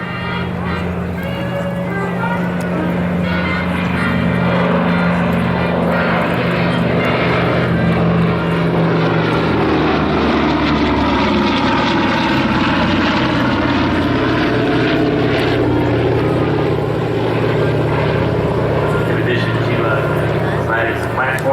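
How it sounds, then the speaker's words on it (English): A B-17 bomber and a C-47 with D-Day invasion stripes flying over at a Michigan air show, a steady loud piston-propeller drone that swells and shifts in pitch as they pass, with an announcer talking over it. "Our B17 executing a direct descent cohort of the C47 as it comes down our show line here."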